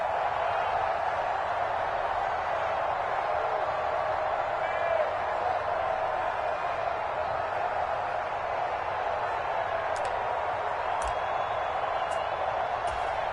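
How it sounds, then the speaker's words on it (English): Steady roar of a football stadium crowd before a two-point conversion attempt, a loud, unbroken wash of noise with faint whistles late on. "Listen to this crowd now."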